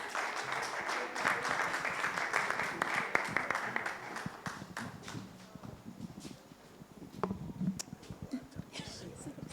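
A townhall audience applauds a singer, dense clapping that swells early and thins out over several seconds, moderately distant, with scattered voices and murmuring underneath as it fades.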